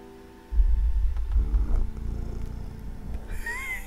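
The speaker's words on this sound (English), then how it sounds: "This is my cat, Smudge." A pet cat purrs close to the microphone, a steady low rhythmic rumble that rises suddenly and continues throughout, with a faint high squeak near the end.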